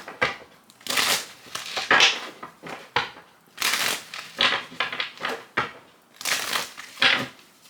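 Tarot cards are shuffled by hand in quick rustling, riffling bursts that come in uneven pulses, close and fairly loud with no talking.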